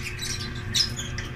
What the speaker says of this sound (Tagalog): Pakita ko po sa inyo itong mga bagong babang ibon.